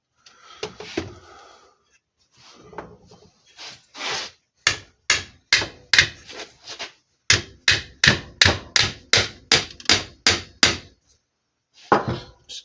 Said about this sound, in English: Just carefully tap, tap, tap.